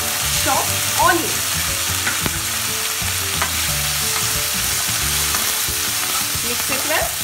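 Chopped onions fry in a pan over ginger garlic paste for an aloo capsicum curry, a steady close sizzle with occasional spoon scrapes and stirring clatter throughout.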